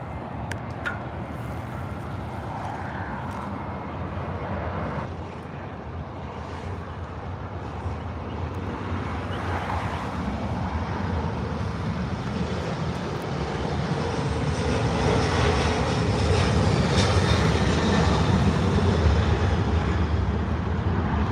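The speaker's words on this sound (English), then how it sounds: "Let's go to the takeoff." An airliner takes off, its jet engine roar building steadily from a distant hiss into a loud, broad, sustained rumble that swells and holds.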